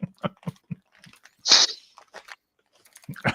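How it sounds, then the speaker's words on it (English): Someone chews candy-coated biscuits close up, with several sharp crunchy bites in a row followed by one louder, longer crunch and then softer chewing. "What are you eating?"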